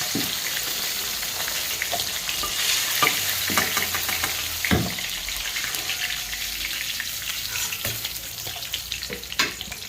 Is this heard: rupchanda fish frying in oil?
yes